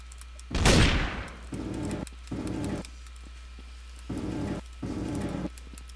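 Gunfire in the Trouble in Terrorist Town video game: one sharp loud shot, then several short bursts of rapid fire at intervals, fairly quiet overall, with no talk.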